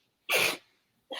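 A single sharp, close sneeze bursts out, then a short pause and the start of another sound, with no talking.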